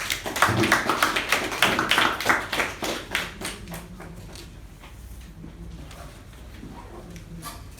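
Applause from the audience at a Toastmasters club meeting as the general evaluator is welcomed: dense, lively clapping that gradually thins and fades to a few scattered claps.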